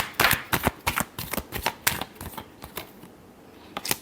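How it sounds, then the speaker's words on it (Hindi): Tarot cards are riffled and shuffled close up in a quick series of crisp flicking bursts that thin out and pause before one last flick. "Last shuffle."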